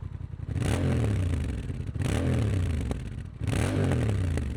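A Honda Rebel 1100 motorcycle with a new premium exhaust and standard baffle revs three times in a row. Each blip rises and falls in a loud, deep engine roar close by, with no voices.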